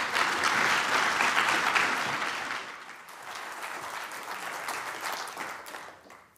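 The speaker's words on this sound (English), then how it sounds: "So please do give a big round of applause to Sir William Castell." A conference audience gives a round of applause for a guest speaker, a broad wash of clapping that swells and then tapers off over several seconds.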